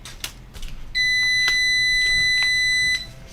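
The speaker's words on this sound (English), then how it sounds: "it's about to go beep" Repeated electronic beeping from a device on a workbench during a prototype circuit board build, loud steady tones lasting about two seconds, starting after a short pause with faint background noise.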